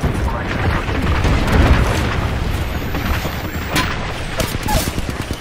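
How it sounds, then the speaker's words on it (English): Video game gunfire and booming blasts from a shooter match form a dense burst of explosive shots, loud and close, with a voice speaking over them. "Getting shot at."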